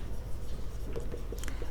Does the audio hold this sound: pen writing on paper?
yes